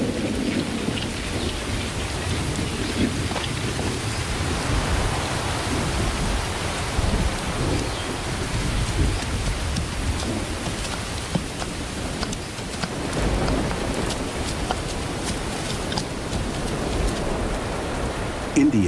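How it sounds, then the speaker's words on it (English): Heavy monsoon rain in India pours steadily while deep thunder rumbles underneath, a dense, loud and unbroken wash of sound. "Nearly 10 inches of rain will soak the ground before the monsoon ends."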